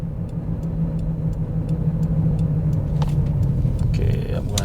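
A high-mileage Honda Odyssey minivan with a rough-running engine drives along with a steady low road rumble and faint ticking, while a voice speaks briefly over it.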